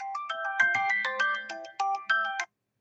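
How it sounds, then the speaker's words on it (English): A phone alarm set as a medicine reminder goes off, a bright electronic ringtone melody of quick repeated tones, clear and close, stopping abruptly. "your alarm goes off on the phone because it's time to take medicine"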